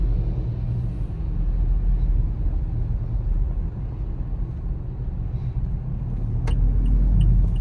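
A car driving along a road in the Philippines, its steady low engine and road rumble continuing close and loud throughout, swelling slightly near the end.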